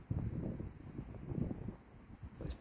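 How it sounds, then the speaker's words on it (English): Wind buffets a microphone outdoors, with low, uneven gusty rumbling that swells and fades, faint and without voices. "Just say it's the wind blowing somewhere."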